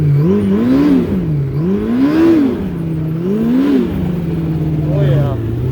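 Yamaha RX1 snowmobile engine revving after a misfire fix, rising and falling repeatedly in smooth waves before settling to a steady idle, close and loud, with someone talking over it.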